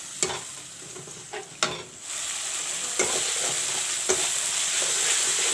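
Masalas with turmeric powder frying in a pan, a steady bright sizzle running throughout, punctuated by several sharp clinks and scrapes of a spoon stirring against the metal, close and alone with no voices.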